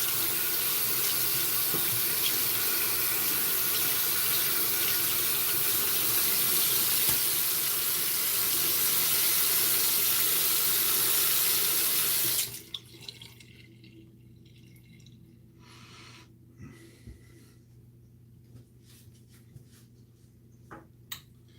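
Shaving brush rinsed under a running tap at a bathroom sink, a steady loud rush of water for about twelve seconds before the flow cuts off abruptly, leaving faint drips and quiet handling noises.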